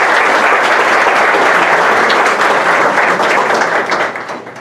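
Sustained applause from a forum audience at a Tlaxcala event on Indigenous political-electoral rights, dense steady clapping throughout that thins and fades in the final second.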